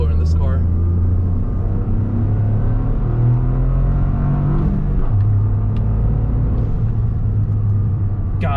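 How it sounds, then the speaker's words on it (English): Toyota GR Corolla engine droning steadily while driving a winding mountain touge road, a loud low rumble with gear shifts and rising revs throughout. "God, this car is so much fun to drive."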